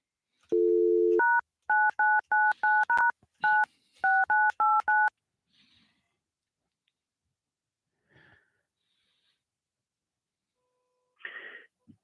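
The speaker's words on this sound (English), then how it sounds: "I'm trying to get a phone call here." Touch-tone telephone dialing: a short low tone, then a quick run of about a dozen crisp, loud beeps in an uneven rhythm, followed by near silence broken by faint breathy noises.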